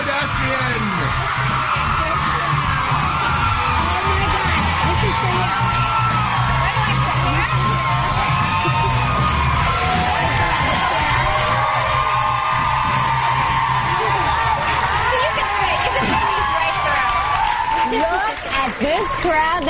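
An excited studio audience at a talk show cheers, whoops and yells loudly without pause, a dense wall of crowd noise.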